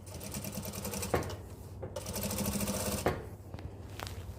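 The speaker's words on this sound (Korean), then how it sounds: "끝으로 스티치 한번" A sewing machine running in two bursts as it stitches a dress seam with thick black topstitching thread, a fast, steady mechanical whir close by with a short pause between runs.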